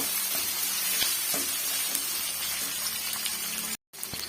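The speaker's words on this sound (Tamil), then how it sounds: "இந்த வெங்காயம் நல்லா கலர் சேஞ்ச் ஆகிட்டு வரணுங்க அது வரைக்கும் நம்ம வதக்கி விட்டுக்கலாங்க" Onions and garlic sautéing in a pan for a three-leaf chutney, a steady close sizzle with occasional spatula scrapes, briefly cut to silence near the end.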